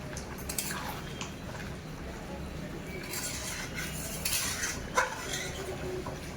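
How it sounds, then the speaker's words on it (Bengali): A spatula stirs chicken curry in a pan after garam masala goes in, giving soft, faint, moist squishing and scraping with a few light clinks, a low background hum, and one sharper knock near the end. "গরম মশলা দেওয়ার পর খুঁতি দিয়ে এইভাবে একবার নেড়ে দেব"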